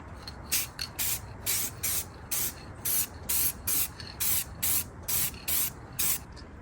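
Aerosol can spraying primer onto chain hoist parts in a fast series of short hissing bursts, about a dozen evenly paced sprays, close and fairly loud.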